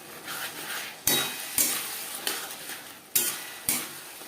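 Washed Gobindobhog rice is stirred with spices in a pan. Sharp spoon scrapes and knocks arrive in irregular strokes about every half second, each followed by a fading sizzle, with no talk.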